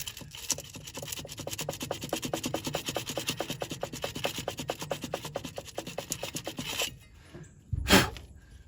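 Dense, rapid back-and-forth rasping of sandpaper on a '66 Chevy part, steady and close for several seconds, then a pause and one short sharp scuff.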